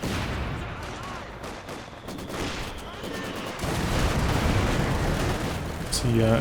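Bundle grenade blasts and battlefield gunfire in Company of Heroes 2 during a 4v4 match on La Gleize, rumbling bursts under a commentator's voice, swelling louder midway with a sharp hit near the end.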